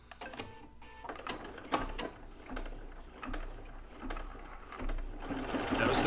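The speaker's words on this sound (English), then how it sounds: "It'll do a tack down stitch for this piece of fabric." A Bernina B990 embroidery machine sews a tack-down stitch on fabric, a steady rapid mechanical stitching patter with rhythmic clicks, close and moderately quiet, with no talk over it.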